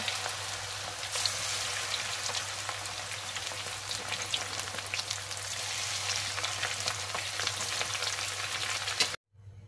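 Last batch of chicken wings deep-frying in hot oil, a dense, steady close sizzle with crackling pops throughout, over a low steady hum, cutting off abruptly at the end.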